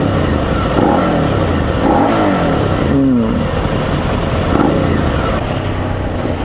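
A 2017 Suzuki SV650 V-twin motorcycle engine pulls steadily under acceleration while being ridden, a loud, continuous mid-range drone with rising pitch sweeps, wind noise mixed in.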